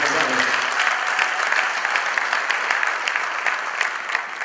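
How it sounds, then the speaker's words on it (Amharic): An Ethiopian church congregation bursts into sustained applause, a thick, even wash of clapping from many hands, loud and continuous throughout. "እስኪ ለእግዚአብሔር አጨብጭቡ።"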